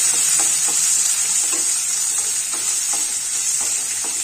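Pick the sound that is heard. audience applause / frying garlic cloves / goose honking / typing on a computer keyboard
frying garlic cloves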